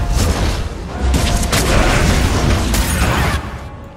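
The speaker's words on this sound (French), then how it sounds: "Explosion télékinésique." A sustained, loud rumbling burst with rolling booms and crackle, a telekinetic explosion spell cast in Dragon Age 2, lasting several seconds without any speech.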